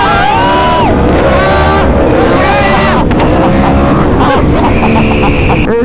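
A Yamaha R1 motorcycle engine recorded by a GoPro on the bike, revving loud and close with rising and falling pitch sweeps. Heavy wind buffeting sits over the engine throughout.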